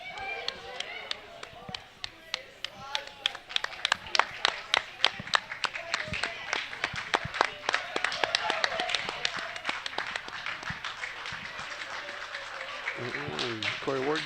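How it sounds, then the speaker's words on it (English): Applause at a curling national championship game, many hands clapping in a sharp, uneven burst that builds and continues loudly for several seconds, with crowd chatter and voices underneath and a voice rising near the end. "the Swiss Helm Rink will come off with some applause too."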